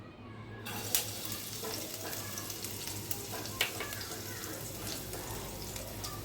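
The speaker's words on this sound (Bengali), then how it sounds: "এখন কড়াতে তেল দিয়ে রেখেছি, এখানে আমি প্রথমে রসুনটা সম্বার করে দিয়ে দিচ্ছি।" Garlic frying in hot oil in a wok, giving a steady, close sizzle that runs throughout with a couple of sharp spits and crackles, and no talk over it.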